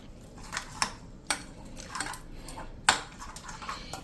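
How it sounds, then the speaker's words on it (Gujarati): Spoon clinking against a bowl while yogurt is stirred with turmeric, chili powder and asafoetida, a few sharp scrapes and taps spread irregularly over soft wet mixing, close and fairly quiet. "આ બધું જ નાખીને આપણે આ બધું જ દહીં સાથે મિક્સ કરી લેશું."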